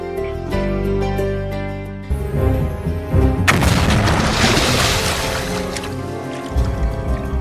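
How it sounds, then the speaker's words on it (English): An underwater explosion from blast fishing, heard as a sudden loud boom partway through that breaks into a rushing, rumbling wash, all over steady background music. "Fishing with explosives, also known as blast fishing."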